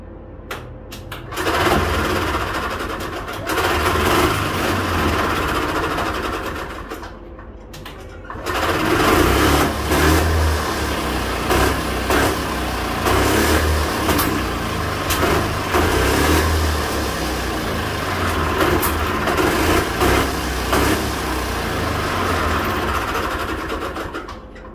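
An EZGO golf cart's gas engine starts and runs loud and close, a steady rough mid-pitched drone with a brief dip and restart after a few seconds, then holding on continuously.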